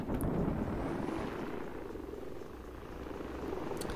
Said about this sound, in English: So there's more friendly helicopters coming in.